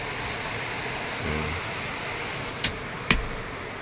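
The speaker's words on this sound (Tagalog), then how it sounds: "Pakalakas ng ulan mga kabukals oh" Heavy monsoon rain pours in a steady broadband hiss, with a low rumble briefly swelling and two sharp nearby knocks near the end.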